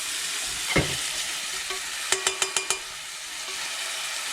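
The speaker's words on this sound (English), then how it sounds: "Keep stirring because you don't want the onion to burn." Onions and a garlic clove fry gently over minimum heat in a pan for risotto alla milanese, giving a continuous soft hiss. A spoon scrapes once, then five quick metallic taps ring out against the pan.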